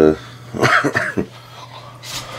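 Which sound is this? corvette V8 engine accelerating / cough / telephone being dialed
cough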